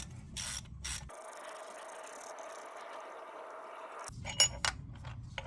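A ratchet works on 14 mm bolts on a Honda Accord engine, giving short bursts of clicking with a quieter pause in the middle and a sharper metallic clack near the end, close and fairly faint.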